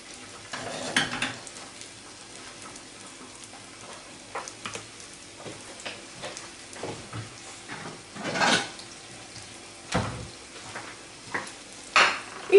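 Soft sizzling of an omelette frying in a pan, with occasional stirring and scraping sounds and a few louder clinks near the end.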